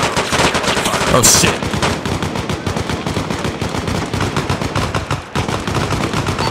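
Sustained machine-gun fire in the Arma Reforger combat game, set on a Vietnam jungle patrol, with rapid bursts rattling continuously at close range and a man briefly cursing over the shooting.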